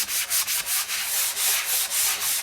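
Sandpaper rubs back and forth in the grooves of a repurposed wooden cabinet door, making brisk, close, rhythmic scratchy strokes about every quarter second, with no voices.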